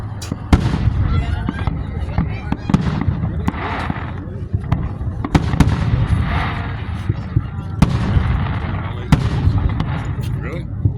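Fourth of July fireworks over Dunkirk, New York crack and boom repeatedly in sharp close bursts over a rumbling backdrop, while people chat nearby.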